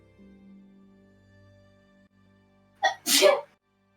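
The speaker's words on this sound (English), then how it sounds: "Navaclaw sneezing in the Happy stands." Navaclaw, an animal in the stands, lets out one close, loud sneeze in two quick bursts, a sharp intake followed by an explosive release, after a quiet stretch of faint low humming tones.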